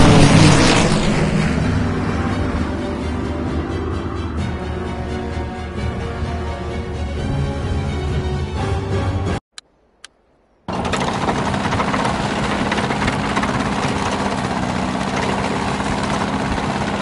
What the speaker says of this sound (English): Now their aircraft will bomb our forces.